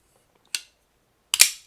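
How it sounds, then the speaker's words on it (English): A Randy Doucette Metalhead pocketknife blade snaps open with a quick metallic click, followed by a sharper double click and short ringing snap, crisp and close. "I love the sound of this guy deploying"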